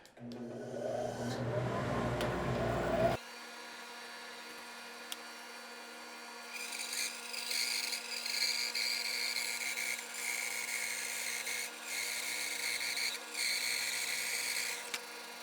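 A bandsaw cuts slices from a block of spalted wood, starting with a loud, steady buzzing cut. It then settles into a lighter, continuous whine with brief dips.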